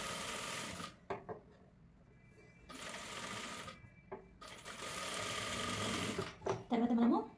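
A sewing machine topstitches the neckline of a frilled cloth frock, running in several close bursts of rapid whirring separated by short stops, with a person talking during the pauses.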